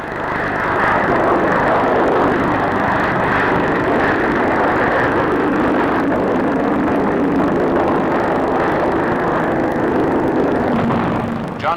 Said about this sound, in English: Here is the de Havilland 110.